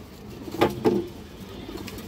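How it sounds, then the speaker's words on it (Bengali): Two soft coos in quick succession from a female tournament pigeon, close by, over a quiet low background hum. "এটা টুর্নামেন্ট খেলা একটা মাদি কবুতর"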